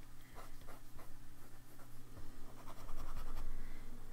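A PenBBS 355 Snow fountain pen's nib writes on paper, giving soft, close scratchy strokes in an irregular rhythm over a steady low background hum.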